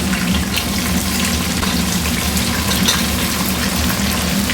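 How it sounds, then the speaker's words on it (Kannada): Green chillies, a quarter kilo of them, frying loudly in a pan with mustard seeds, cumin and masala, a dense and continuous crackling sizzle heard up close. "ಇದು ಚೆನ್ನಾಗಿ ಫ್ರೈ ಆಗಲಿ ಮೆಣಸಿನ್ಕಾಯಿ"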